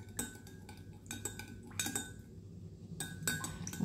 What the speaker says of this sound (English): Gotta stir it for 2 minutes now.